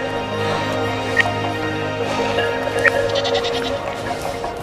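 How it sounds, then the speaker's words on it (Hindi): A herd of goats bleats on a mountain slope along the Karakoram road. Several thin, wavering cries come at intervals from a moderate distance over a steady low rumble of wind or engine, and there is no speech. "देखिए, बकरियों का झुंड।"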